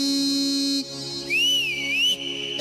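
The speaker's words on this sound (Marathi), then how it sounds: "शिटी वाजली" A sharp, piercing whistle blows in a sustained tone, drops, then rises again with a wavering, swooping pitch, loud and close with no talking.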